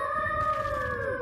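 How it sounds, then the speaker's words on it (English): A wolf howl from an animated children's cartoon: a single sustained, wavering tonal howl held steady and close for about a second, then sliding downward at the end, with no talking over it. "Sounds like another wolf."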